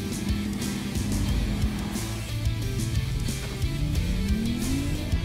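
A BMW M340i and a Volvo C40 Recharge launch side by side in a quarter-mile drag race, a loud engine roar that rises in pitch as the cars pull away, heard outdoors with a steady rumble throughout.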